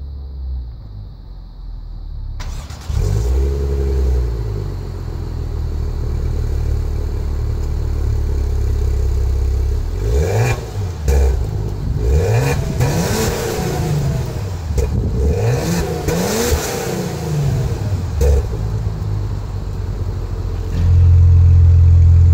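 2017 Maserati Levante S starting up: after a brief quiet, the engine catches with a sharp flare, settles into a rumbling idle, then revs hard in several rising and falling bursts before idling again, close and loud.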